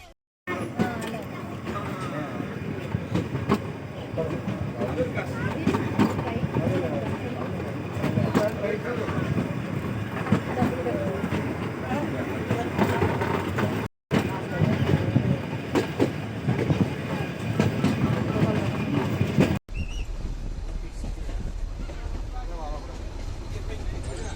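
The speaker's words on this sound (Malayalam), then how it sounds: "ട്രെയിൻ അധികം സ്പീഡിലൊന്നുമല്ല പോകുന്നത്" Nilgiri Mountain Railway toy train rolling slowly out of Ooty: a continuous rumbling clatter of wheels and carriages from on board, with a brief dropout and a quieter patch near the end, under occasional talk.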